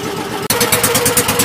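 An outboard boat motor on an island excursion boat catches and starts, its mid-pitched engine settling into a fast, even chugging pulse right after a brief cut, loud and close.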